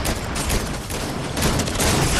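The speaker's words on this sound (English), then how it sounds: "Oh, I'm getting shot from behind." Dense, continuous gunfire rattles loudly in a Fortnite trio match as the player is hit from behind, a steady burst of shots filling the whole moment without speech.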